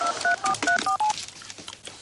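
A telephone being dialed, a quick run of about six short two-tone keypad beeps in an even rhythm, followed by faint background noise and light room sounds.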